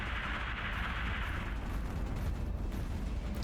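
40mm cannon fire from an AC-130 gunship strikes aliens in the Otherworldly Air Gunship video game, a loud, continuous, rumbling barrage of blasts with a hissing roar that fades after the first second and a half.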